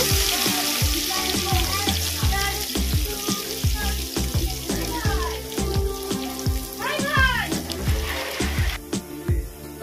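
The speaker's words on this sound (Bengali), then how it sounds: "রসুনটা কয়েক সেকেন্ড একটু ভেজে নেব।" Garlic sizzles and crackles in hot oil, a steady frying hiss with repeated clinks of a spoon stirring against the pan.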